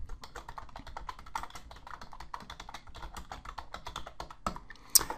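Rapid typing on a computer keyboard at close range, a steady stream of crisp key clicks with a few heavier strokes near the end, no voices.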